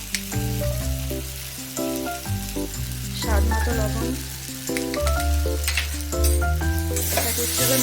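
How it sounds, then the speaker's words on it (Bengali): Spices with turmeric fry in oil over low heat for a bitter gourd curry, giving a steady close sizzle with stirring and scraping under background music while a voice speaks briefly. "এটাকে একটু মশলাটাকে একটু ভাজা ভাজা করে নেব হালকা আঁচে।"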